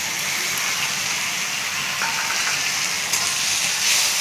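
Ginger paste spatters and crackles in hot oil in a pan, a dense, steady sizzle that stays loud and continuous, with a few sharper pops breaking through.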